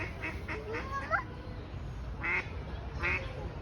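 Ducks quacking at a zoo, with several short bright calls early on and two louder quacks near the end over a steady background murmur.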